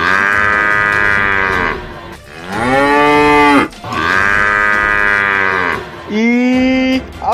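A water buffalo moos loudly and close by in four long, drawn-out calls separated by short breaths, with no talking.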